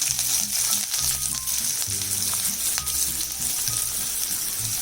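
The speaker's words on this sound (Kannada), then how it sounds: "ಸ್ವಲ್ಪ ಬ್ರೌನ್ ಆಗೋವರೆಗೂ ಈರುಳ್ಳಿ ಚೆನ್ನಾಗಿ ಹುರ್ಕೋಬೇಕು" Chopped onion fries in about two tablespoons of oil in a pan, a bright steady sizzle with faint stirring clinks, close and without talk.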